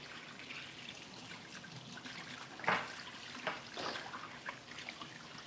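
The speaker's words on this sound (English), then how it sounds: "Let me wash my hands and start breaking that meat up" Water runs quietly from a kitchen tap as hands are rinsed, a low steady trickle with a few splashes and light clatters.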